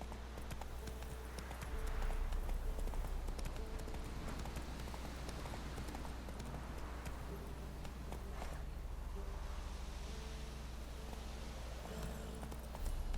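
A horse galloping in The Witcher 3 video game, a fast, continuous clip-clop of hooves under a steady background hum, fairly even in level throughout.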